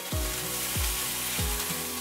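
Hot oil crackles steadily as cumin, mustard seeds, finely chopped onion and curry leaves sizzle in the pan, while three low thumps land at even intervals. No one speaks.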